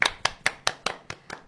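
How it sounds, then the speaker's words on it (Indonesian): Seven sharp, evenly spaced claps at a quick steady pace, close and fairly loud, sounding more like one or two people than a crowd, with no talk. "Tepuk tangan untuk kita semua"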